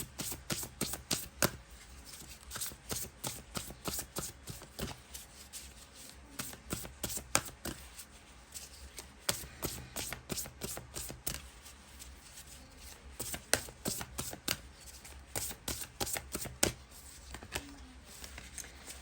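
A tarot card deck is shuffled again and again, each pass a quick, crisp riffle of cards. The bursts come in bunches with short pauses between them, close and fairly quiet, with no talking.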